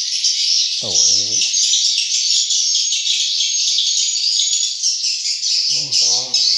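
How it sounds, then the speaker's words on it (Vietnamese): A dense, continuous high-pitched chorus of chirping swiftlets and their chicks fills a swiftlet bird house in Nha Trang, Vietnam, with two brief voices speaking up close. "Chim non. Chim rất là nhiều luôn."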